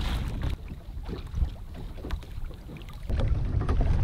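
Wind buffeting the microphone while fishing from a boat, a steady rough rumble with gusts and water sounds, growing stronger near the end, with no voices.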